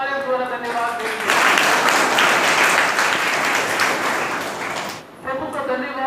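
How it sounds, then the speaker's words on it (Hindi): Loud applause from a church congregation at a St. Mary's Church Grandparents and Parents Day celebration, a dense burst of clapping lasting about four seconds, framed by a speaking voice before and after. "इसलिए प्रभु को जोरदार तालियों द्वारा धन्यवाद देंगे।"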